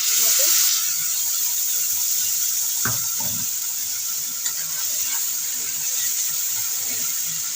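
Spices and fried potatoes sizzling in hot oil for a light rohu fish curry, a steady bright hiss with a few soft stirring knocks, loud and close throughout with no talk.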